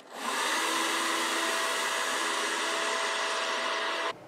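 A heat gun blows steadily and loudly up close as it warms a label inside a Fender Road Worn acoustic guitar, a constant whooshing roar that cuts off near the end with no talking.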